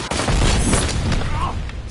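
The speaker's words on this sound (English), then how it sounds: "Shoot the freak!" Gunshots crack in Robocop: Rogue City, a loud burst of booming shots with low rumble and scattered impacts, packed into under two seconds amid game chatter.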